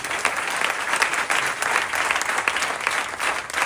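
Loud, dense applause from a temple crowd at a Patotsav festival in Vadodara's Vadi Mandir, a steady roar of clapping that holds at full strength throughout.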